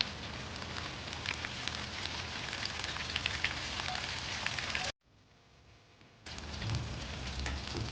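Baby corn deep-frying in hot oil in a kadai over a medium flame, for dhaba-style baby corn Manchurian: a loud, dense, steady crackle that drops away briefly for about a second midway, then comes back just as strong.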